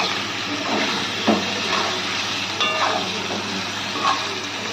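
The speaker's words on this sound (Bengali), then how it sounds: "আমরা কচুগুলো দিয়েও একটু হালকা করে ভেজে নেব।" Boiled taro (kochu) fries lightly in a pan for a fish curry with potatoes, giving a continuous moderate hiss with a few scattered stirring clinks, close by and without talk.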